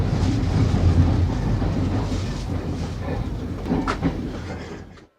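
A train pulling into Terespol station, the last Polish stop before the Belarus border, with a loud steady rumble and rail clatter that gradually eases before the sound cuts off.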